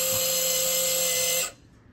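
A motorized valve on a FlowPro downstream injector gives a steady whine, humming loudly for about a second and a half as it opens, then cuts off abruptly, leaving faint background noise.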